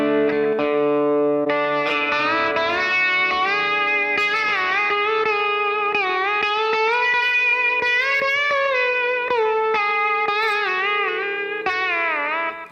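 Overdriven slide guitar playing a scale over a sustained low D drone, with gliding pitches, wavering vibrato and echo-laden sustain, loud and continuous with no talking.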